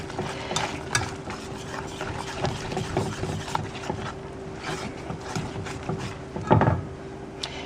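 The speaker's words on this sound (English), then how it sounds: "You want to stir fairly vigorously to make sure there are no lumps." A spoon stirs lasagne sauce vigorously in a pan, with rhythmic scraping and swishing strokes close by over a low background hum, and one sharper clatter near the end.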